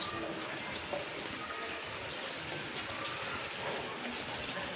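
Light rain keeps falling outdoors in a village at dusk, a soft, even patter and hiss that is steady and moderately distant, with no clear voices.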